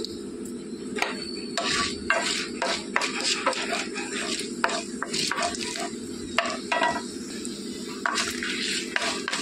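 Urad dal and dried red chillies frying in a pan, with a steady low sizzle under repeated scraping and clinking of a spoon stirring against the metal, close and continuous.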